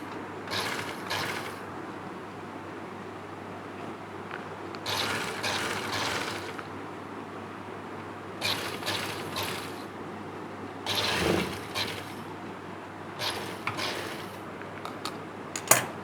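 Domestic sewing machine stitching a neckline seam onto garment fabric, running in several separate bursts of mechanical whirring and clicking with quiet pauses between them.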